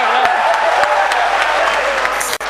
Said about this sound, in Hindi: अगर बजाना तो जम के एक बार तालियां बजाओ